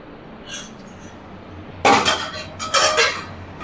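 A metal lid is set onto a cooking pot of simmering gravy, giving two close, bright clanks of metal against metal, with faint rattling and a brief lighter tap before them.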